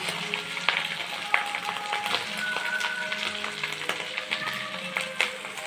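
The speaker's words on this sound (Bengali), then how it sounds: "এবার দিয়ে আমি এটাকে ভাজতে থাকবো" Onions frying in a pan with ginger and garlic for Dhakai chicken kosha give off a close, steady sizzle scattered with sharp crackles and pops throughout, with no talking.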